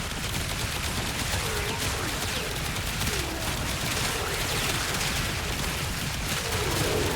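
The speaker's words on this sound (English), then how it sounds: "charge the gun, unleash hell of fireballs" A video game grenade launcher fires a barrage of fireballs, a dense, unbroken roar of rapid blasts and explosions that stays loud and constant with no gaps.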